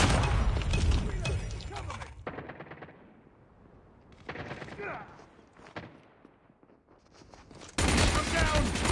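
Rapid automatic gunfire in Call of Duty Mobile multiplayer, loud dense bursts at the start and again at the end with sporadic shots between, mixed with game voices.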